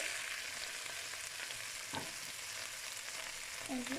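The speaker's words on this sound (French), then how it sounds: "Donc, mes oignons sont prêts. Donc, je vais mettre la viande hachée." Minced meat fries in a pan with onions, a soft steady sizzle and hiss with a brief scrape of stirring, quiet and close, no talking.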